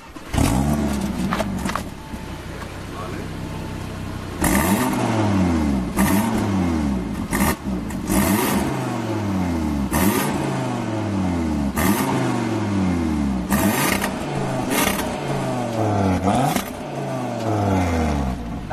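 A 2023 Audi RS3 revs repeatedly at a standstill, its exhaust rising in loud, sharp blips then falling back to idle in a steady series of climbing and dropping engine notes.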